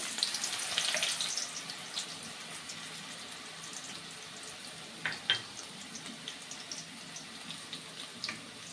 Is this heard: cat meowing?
no